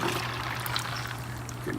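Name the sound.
boiled brine poured into ice water for pastrami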